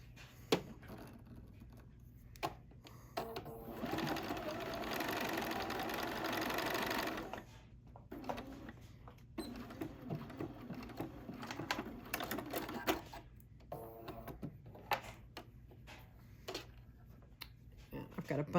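Sewing machine stitching the folded outer petals of a fabric hexagon pincushion, a steady close whir running several seconds, then shorter bursts broken by pauses and small handling noises.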